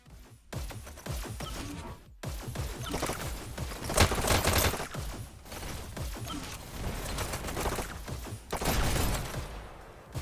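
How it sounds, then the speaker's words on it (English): Rapid SMG bursts crackle in the VR arena shooter Hyper Dash during a competitive league match, dense sustained fire with brief pauses, loud and close, with no talking. "SMG fire coming his way."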